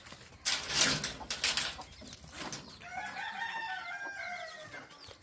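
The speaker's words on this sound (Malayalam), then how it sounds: "കോഴിക്കളൊക്കെ നേരത്തെ ഓപ്പ വിട്ടിട്ടുണ്ട്" Chickens cluck and squawk loudly at first, then a rooster crows in a long, drawn-out call near the end.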